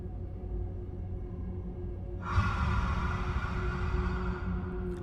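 A creature in the Dark Bramble of Outer Wilds gives a loud, breathy rasping exhale that swells suddenly over a low ambient drone and then holds steady.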